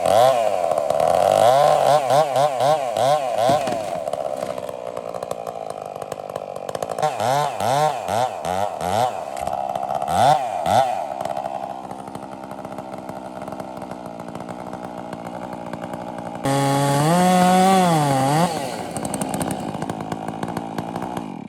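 Chinese MS460 clone chainsaw cutting logs, with bursts of high revving as the cut bites, easing back to a lower idle drone between cuts, and one more loud rev near the end.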